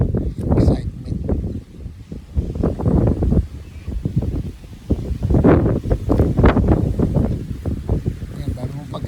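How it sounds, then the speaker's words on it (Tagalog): Strong wind buffets the microphone outdoors in loud, uneven gusts and rumbles that swell and fade continuously, with a voice speaking briefly over it. "Lakas ng hangin dito."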